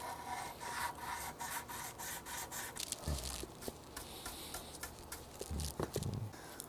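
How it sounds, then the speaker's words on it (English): A small wooden block wrapped in 320 grit sandpaper rubs back and forth across an electric guitar's back cover, a close, rhythmic scratchy rasp of repeated strokes with a few knocks near the end. "Got a little block of wood right here with 320 grit sandpaper on it."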